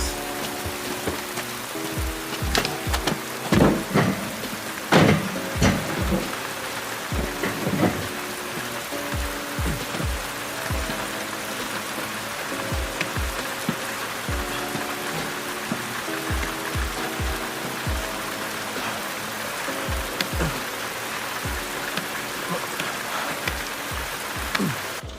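Steady rain patters and splashes on surfaces throughout, with scattered louder drips and knocks, beneath a soft musical drone from a Squid Game 2 episode.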